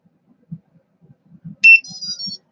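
A racing drone's onboard buzzer sounds one short, sharp electronic beep, then a fainter warbling tone follows, with quiet clicks and handling noise around it.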